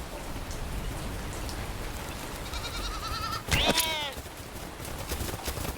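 A goat in the survival video game bleats once, briefly and clearly, over steady rain on surfaces, with no talk heard.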